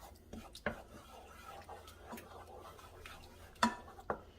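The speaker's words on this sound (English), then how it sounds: "Give this a nice mix." A spoon stirs pasta ingredients in a cooking pot, giving a few faint, sparse clinks and scrapes over a quiet kitchen background.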